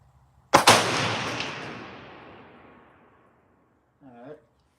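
A single sharp, loud bolt-action rifle shot from a Ruger American Gen 2 Predator on an outdoor range, its report decaying over a few seconds before a short voice briefly speaks.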